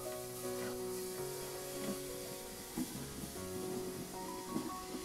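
Steady fizzing and crackling of hot vinegar bubbling with baking soda in a drain, close by and continuous, with a faint tonal hum running underneath and no talking.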